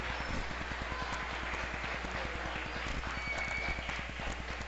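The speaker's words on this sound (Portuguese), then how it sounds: "Você podia aplaudir o Senhor essa noite?" Church congregation clapping steadily in rhythm, a dense continuous patter of many hands filling the room at a consistent loud level for several seconds.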